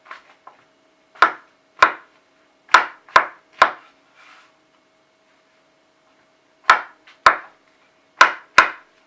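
Knife chopping mushrooms on a board, crisp single strikes in irregular clusters with pauses between, close and clear over a quiet low hum.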